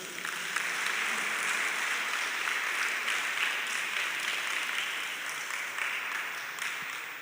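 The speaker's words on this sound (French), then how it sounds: "D'applaudir encore une fois tout le corps des éducateurs." Sustained applause from a crowd of schoolchildren and guests at an end-of-year exam awards event, cheering the whole teaching staff: thick, continuous clapping held evenly for about seven seconds without speech.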